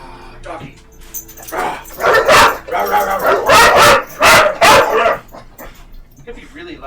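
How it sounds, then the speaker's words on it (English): A pet dog named Willow gives several loud, close barks in a quick burst indoors, with faint whimpers around them. "Doggy."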